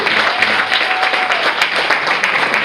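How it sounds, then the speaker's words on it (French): Dense, steady applause from a stand-up comedy audience, sustained clapping with no break throughout. "On peut l'applaudir."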